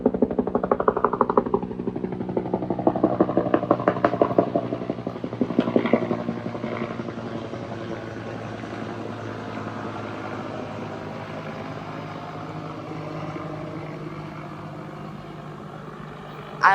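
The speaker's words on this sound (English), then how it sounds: "Apparently there is a helicopter," A helicopter's rhythmic rotor thumping passes overhead, loud at first and then fading to a steady distant drone.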